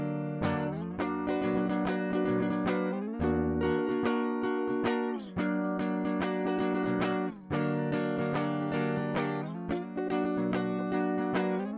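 Guitar strums a sequence of inside chord voicings, each chord ringing out and sustaining for a couple of seconds before the next change. The playing is steady, full and close, with no voices.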